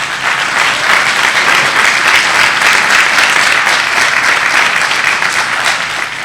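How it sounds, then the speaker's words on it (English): A Pechakucha Night audience in Silver Spring breaks into steady, dense applause that holds loud and full for several seconds, no voices rising above the clapping. "if you give them a round of applause"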